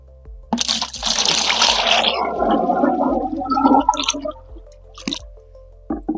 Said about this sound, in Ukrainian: Додаємо трошки сиропу.